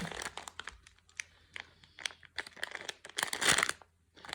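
Plastic wrapping on an AliExpress parcel crinkles and crunches in close, irregular bursts during unboxing, with short quiet gaps and a louder rustling flurry toward the end.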